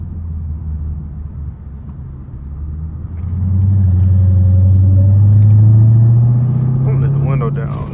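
Straight-piped Dodge Hellcat engine rumbling low and steady from inside the car while driving, swelling louder as it revs partway through and holding a heavy drone before easing off.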